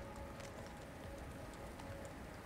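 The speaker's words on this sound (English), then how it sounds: "Ooh, it's raining." Steady rain patters softly on a surface in the video game Subnautica: Below Zero, a faint, even hiss with scattered drops and no pauses.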